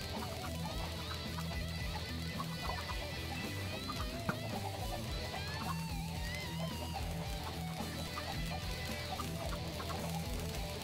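Chickens cluck continuously in the game Minecraft, a dense layer of repeated clucks over steady background game noise.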